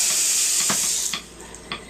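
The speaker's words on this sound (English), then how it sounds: "These are extremely nice Peekman faucets." Water runs from a metered Peekman faucet at a restroom sink in a steady loud hiss that cuts off about halfway through, followed by a few faint clicks and drips.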